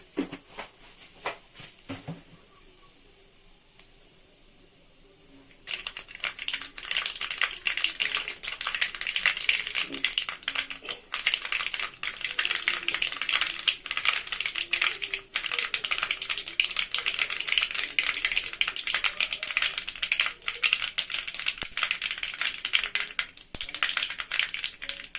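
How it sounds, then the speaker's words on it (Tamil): Mustard seeds splutter in hot oil while a traditional drumstick gravy is being started, beginning with a few quiet seconds and then breaking into a dense, continuous crackle and pop that runs to the end. "கடுகு பொரிஞ்சு வச்சு"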